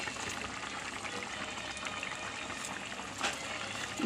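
A pot of fish curry with mango and coconut milk simmers, giving a faint, steady bubbling hiss that stays low and even, without talking.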